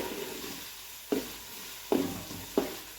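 Onion roasting in oil in a large pot hisses softly, broken by three sharp spatula scrapes against the metal, close by with no one speaking.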